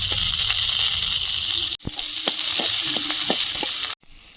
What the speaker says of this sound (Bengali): এবার দেবো একটু কালো জিরে থেতো করা রসুন